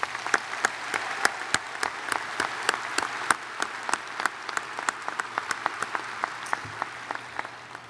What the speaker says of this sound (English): Please join me in giving these graduates a round of applause.